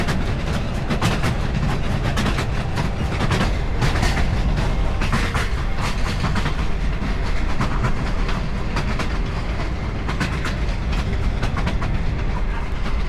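From inside a new Mombasa commuter train coach, wheels rumble and clack steadily over the rails, a loud continuous roar with rhythmic rattles and knocks throughout.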